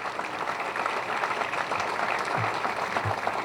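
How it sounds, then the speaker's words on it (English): A dinner audience gives a round of applause for the table sponsors at the Newport Beach Fire and Lifeguard Dinner, a dense, steady wash of clapping that continues evenly for the whole stretch. "So big round of applause for all of our table sponsors."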